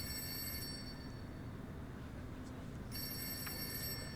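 Telephone bell ringing in a school office, two bursts of bright repeated ringing separated by a quiet gap over a steady low background hum, with no talk.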